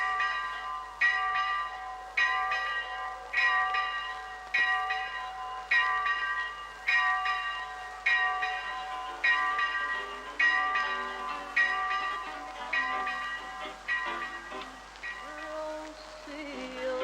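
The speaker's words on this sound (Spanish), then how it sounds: "Son las campanas de las clarisas." Church bells of a Poor Clares convent ring in a slow, even peal, one clear metallic strike about every second with long ringing decay, loud and close, no voices.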